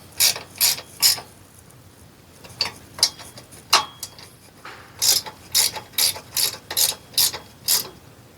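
A hand ratchet clicks in quick bursts while tightening roller bolts on a Brunswick GSX bowling pinsetter sweep wagon, with about a dozen sharp close ratcheting strokes in uneven groups separated by brief pauses.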